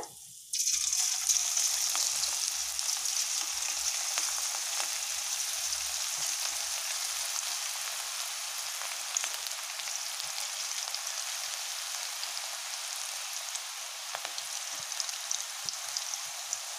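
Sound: onion pakoda frying in hot oil

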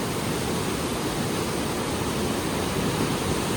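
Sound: muddy river flowing

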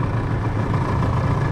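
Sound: Tohatsu 25 outboard boat motor starting and running

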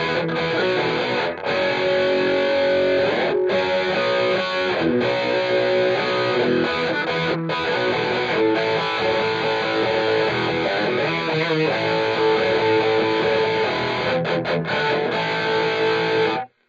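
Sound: electric guitar playing a British crunch rhythm tone

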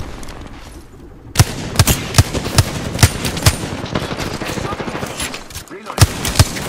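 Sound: gunfire in Apex Legends video game

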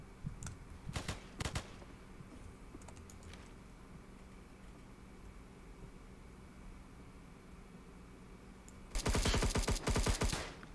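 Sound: gunfire in Roblox Operations: Siege video game

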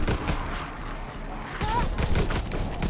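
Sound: gunfire in video game Call of Duty WW2 Nazi Zombies

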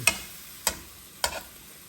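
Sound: stirring shrimp as they cook in a pan

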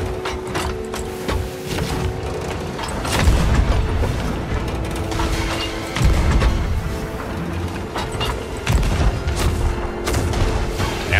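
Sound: cannon fire in Sea of Thieves ship battle (video game)

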